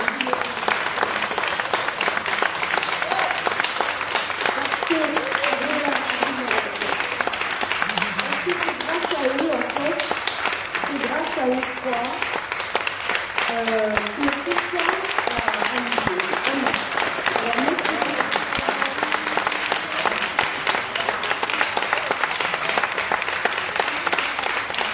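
A large audience at a French talk on feminism applauds Elgas, Marie and Adrien, the clapping dense and sustained for the whole stretch, with voices rising through it.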